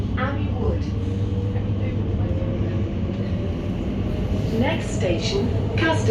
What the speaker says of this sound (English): This is the train to Abbey Wood.